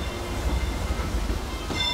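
The Disneyland Railroad train rolls along with a steady rumble and faint clatter of wheels, close and continuous, with no voices.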